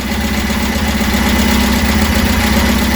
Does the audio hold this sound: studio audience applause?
no